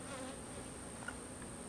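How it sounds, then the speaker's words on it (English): Bees and a wasp stealing honey at an open beehive, producing a faint, continuous buzzing drone heard up close with no voices. "There's a wasp stealing honey."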